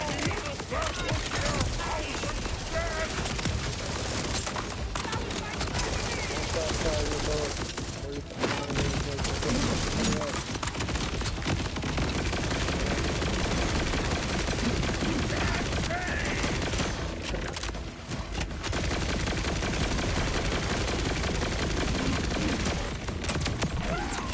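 Borderlands 4 video game combat with constant gunfire and explosions, a dense, steady barrage of shots running throughout, with a voice talking over it.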